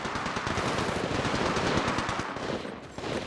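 Sustained automatic gunfire in the mobile battle royale Apex Legends Mobile, a loud, close, unbroken stream of rapid shots lasting several seconds with no voices over it.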